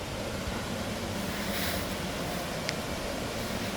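Steady rushing roar of water pouring down an artificial waterfall, a broad even wash of noise heard alone from close by.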